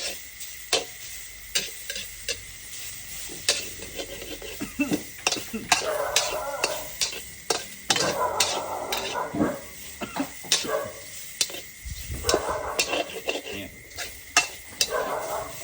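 Sizzling and clattering in a wok as pork is stir-fried for Thai holy basil pork, with sharp metallic scrapes and taps recurring irregularly, close and moderately loud.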